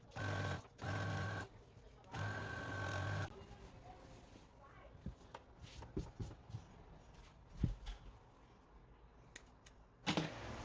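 Sewing machine hemming the bottom edge of a child's gathered Ankara print skirt, running in three loud steady bursts of stitching near the start, then light fabric handling and small knocks with no voices.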